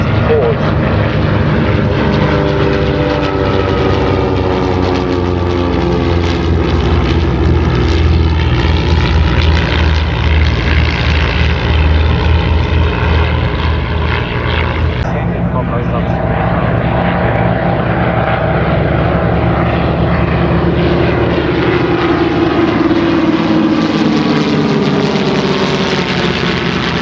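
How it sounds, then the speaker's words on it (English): A propeller-driven Commonwealth Aircraft Corporation plane built in Australia flies past flanked by two CT-4s at a centenary air show, its loud, steady engine drone filling the whole stretch and shifting in pitch midway as the formation passes. "definitely the Commonwealth Aircraft Company Corporation aircraft built here in Australia, and flanked by two CT-4s"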